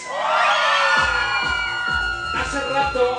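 A crowd of women at a Naucalpan venue show shouts and cheers loudly together on cue, a sustained burst of massed voices with some whoops over music.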